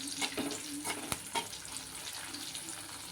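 Okra masala being stirred in a frying pan, with a soft steady sizzle and a few light utensil scrapes against the pan, fairly quiet and with no voices.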